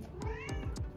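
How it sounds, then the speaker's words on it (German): A house cat gives one drawn-out, wavering meow at feeding time, fairly soft and nearby, with faint rhythmic tapping underneath. "Die Katze bekommt es noch."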